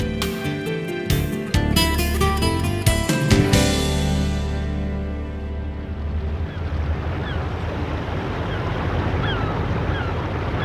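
A tourist boat moving on the River Thames, with steady rushing water and engine rumble growing clear as music at the start fades away.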